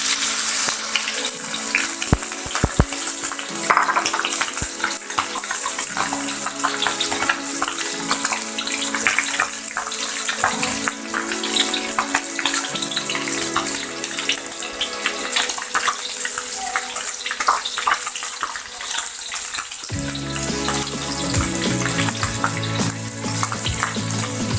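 Teri anchovies frying in hot oil in a wok for oseng teri Medan, making a loud, steady crackling sizzle throughout with occasional utensil clinks and no talking.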